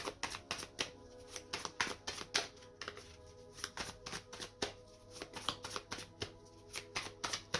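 Tarot cards being shuffled by hand, a steady run of crisp riffling snaps and flutters in quick irregular rhythm, close and clear against a quiet room.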